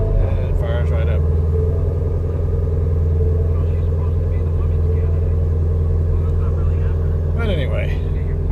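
A Ford Mustang GT350 or GT500 V8 engine idles steadily with a deep, loud rumble close by after starting, while someone talks over it.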